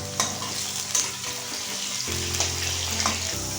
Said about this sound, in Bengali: ফুলকপিটাকে আমরা হালকা ভেজে তুলে নেব, খুব বেশি কড়া করে ভাজবো না